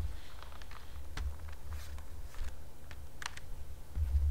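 Scattered clicks and taps of someone typing on a computer keyboard, irregular and fairly close, over a low steady hum with no speech.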